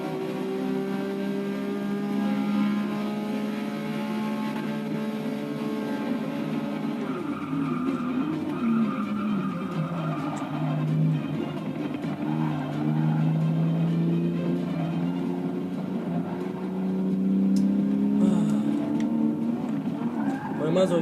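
A Porsche race car in Forza 6 drives at speed, its engine a steady, loud drone that rises and falls slightly with gear and throttle while someone talks over it.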